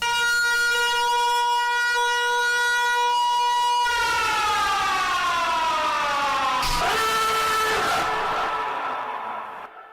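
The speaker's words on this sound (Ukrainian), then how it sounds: "Звук оповіщення спочатку буде нагадувати вже звичний для нас, такий, який ми чуємо під час повітряної тривоги" A loud, steady air raid warning siren wails with strong harmonics, then its pitch slides gradually downward and shifts tone midway into a distinct nuclear-alert signal, continuing alone until fading at the end.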